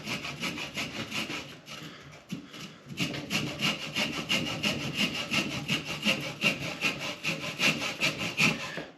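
Steady back-and-forth rasp of a hand saw cutting black walnut, rhythmic strokes after a brief pause near the start, close and continuous, no talking.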